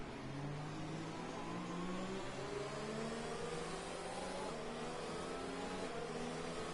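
Race cars circle a Chinese circuit bunched behind a safety car, their engines a steady droning whine with several overlapping pitches slowly climbing and shifting, heard at a moderate distance with no voices.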